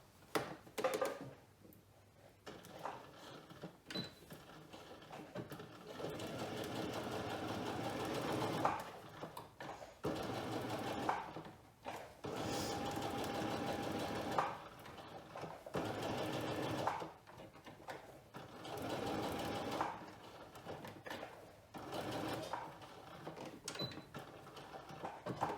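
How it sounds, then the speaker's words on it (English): A sewing machine sews a straight stitch in steady bursts of rapid mechanical stitching, stopping and starting several times, with no talking. "I'm going to take that to my sewing machine and sew another straight stitch"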